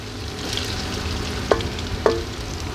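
Chopped onions sizzle and crackle steadily in a hot pan, close up, with a couple of sharp clicks of a utensil against the pan.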